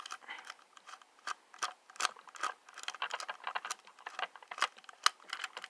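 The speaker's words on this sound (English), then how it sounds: "All you have to do is unscrew the battery compartment." A small screw is worked loose from the battery compartment of a Hasbro Yo-kai Watch toy, giving quick, close, irregular plastic clicks and ticks in rapid succession with no talking.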